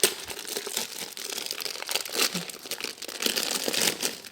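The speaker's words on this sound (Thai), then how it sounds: "เกี่ยวถุงพลาสติกออก" A plastic bag is pulled off a plant in a vegetable garden, giving a close, continuous crinkling and rustling that rises and falls over about four seconds, with no talking.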